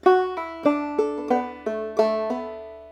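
Clawhammer banjo playing one measure of Briarpicker Brown with a pull-off: a quick even sequence of about eight twangy plucked notes, near and unaccompanied.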